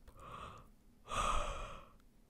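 Two soft, breathy yawns from a woman in a quiet room, close and gentle, the second one longer and fuller.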